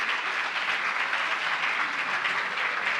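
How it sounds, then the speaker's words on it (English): An audience at an evening lecture event gives steady, dense applause for their mentors, many hands clapping together at even strength with no break. "A big round of applause, please, for our beloved mentors."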